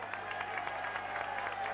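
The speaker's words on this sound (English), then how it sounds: "What a nice big round of applause to the band" Audience at a tribute night gives the band a round of applause, a brief, steady wash of clapping and light cheering in a hall, with a faint steady hum beneath.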